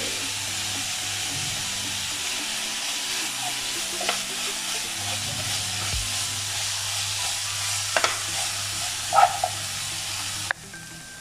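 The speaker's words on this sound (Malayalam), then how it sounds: "ഇപ്പം നമ്മുടെ സവാള ഇവിടെ നന്നായി വഴണ്ട് വന്നിട്ടുണ്ട്" Onions sautéing in a pan with a little salt, a steady close sizzle running throughout with occasional scrapes and clicks of stirring, and a sharp knock near the end before the sound drops away.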